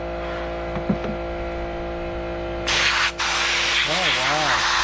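A Harbor Freight 18 oz portable soda blaster loaded with regular baking soda kicks on partway through, a loud steady hiss of air and abrasive against a carburetor, briefly cutting out once before resuming over a background engine-like hum.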